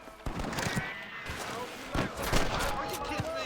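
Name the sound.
rifle gunshots in the video game Red Dead Redemption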